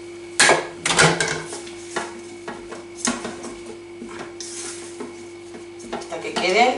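Lean meat with onion and mushrooms being stirred and sautéed in a GM G Deluxe multicooker pot: a spoon scrapes and clanks against the pot in several bursts over a soft sizzle.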